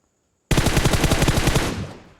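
A rapid automatic burst of gunfire from the mobile battle royale Battlegrounds Mobile India, loud and close, rattling steadily for about a second and a half before trailing off into a fading echo.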